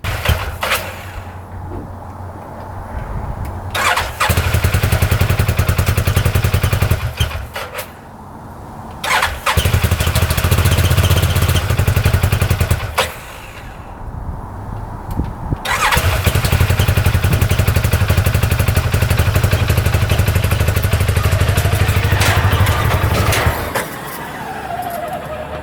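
A $3,000 UTV engine cranks and fires repeatedly, revving loudly in long bursts, then cutting out and falling quiet between attempts as it struggles to stay idling; close and loud.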